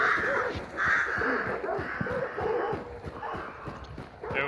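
Several crows caw repeatedly in harsh bursts in the video game Hunt: Showdown, fairly close, over a continuous low background.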